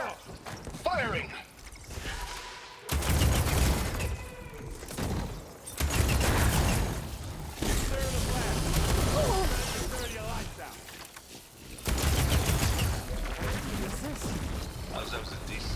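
Bursts of gunfire and clattering combat in the Horizon game, heard in loud stretches with pauses between them, while voices talk over the action.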